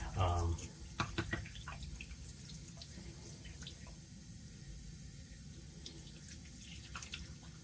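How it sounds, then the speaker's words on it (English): A razor rinsed under a running tap, giving a steady close rush of water with a few brief clinks and splashes near the start. "Rex is rinsed out here"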